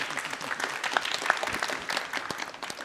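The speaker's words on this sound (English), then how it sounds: "give her a warm applause." Scattered applause from a conference audience, a modest patter of clapping that is fairly soft and uneven, without any talking over it.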